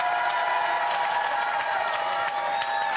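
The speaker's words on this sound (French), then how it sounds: "Vous pouvez l'applaudir très fort." Crowd applause and cheering at a cycling race start village in Sallanches, a broad steady wash of clapping and voices under a sustained tonal background, continuous for the whole stretch.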